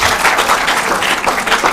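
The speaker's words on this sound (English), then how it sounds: "Let's clap for them." Steady audience clapping at a junior high school quiz contest, a continuous dense patter of many hands for quiz contestants, with no talking over it.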